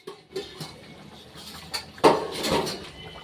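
A metal plate serving as a lid comes off a pot of cooking chicken dak bungalow, with a few light clinks, then a louder metallic scrape and clatter as it lifts and is set aside.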